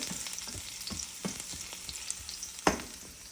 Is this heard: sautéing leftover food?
yes